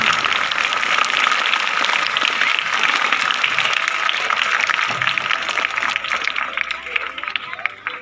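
Sustained, dense applause from an audience at a school welcome ceremony, steady and loud for several seconds and thinning slightly toward the end, with some crowd murmur mixed in.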